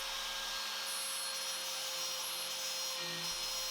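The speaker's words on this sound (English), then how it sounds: "Then once I feel comfortable, I fire up the router." Plunge router cutting an inlay pocket around a template, a steady high-pitched motor whine with a shifting cutting noise, close and continuous throughout.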